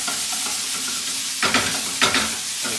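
Palm sugar caramelizing with curry paste in a hot pan for a Thai ground turkey curry, a soft continuous sizzle broken by two sharper stirring scrapes against the pan.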